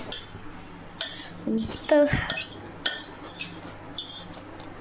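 Utensils clink and scrape against dishes as food is served onto a plate, with scattered close metallic taps and a brief spoken word.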